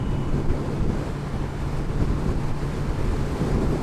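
Heavy wind roars steadily into the microphone while riding a new motorcycle at around 60, a dense continuous buffeting rush with no engine detail standing out and no voices.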